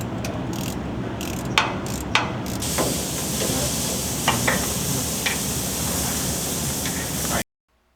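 A ratchet wrench clicks through several sharp, close ticks during a hydraulic fan installation, with a steady mechanical hum underneath and no talking.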